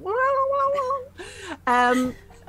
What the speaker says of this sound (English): Lydia's Klaxon is a cat in a bin.